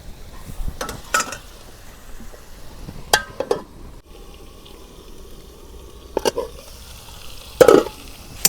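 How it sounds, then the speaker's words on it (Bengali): Broiler chicken pieces being dry-stirred and seared in a pan for a village-style Bengali curry, with scattered scraping spatula strokes over a low steady sizzle, a few sharper clatters standing out near the end. "মাংস কষানো হচ্ছে"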